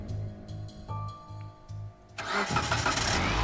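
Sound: door slamming and car engine roaring, from a video game

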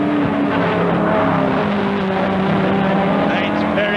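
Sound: 1971 saloon racing cars including Chevrolet Camaro at Crystal Palace

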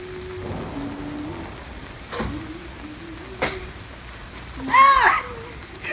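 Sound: heavy rain

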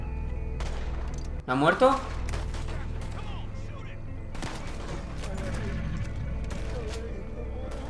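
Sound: gunshots in video game Red Dead Redemption 2

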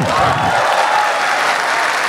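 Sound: audience applause for comedian Nuri

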